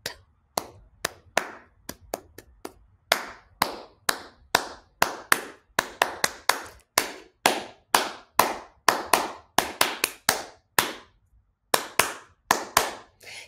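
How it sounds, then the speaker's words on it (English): Hands clap out an uneven rhythm, sharp close claps in short groups with brief pauses, loud and dry with no talking. "So you can clap loudly."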